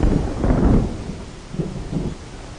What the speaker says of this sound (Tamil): ஐயோ மழை வர போகுது, வாங்க வண்டி போயிடலாம்